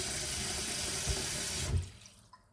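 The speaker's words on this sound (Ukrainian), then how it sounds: "І набираю води." Tap water runs into a cooking pot for meatball soup, a steady rushing splash that cuts off as the faucet closes, leaving a few faint drips in the quiet.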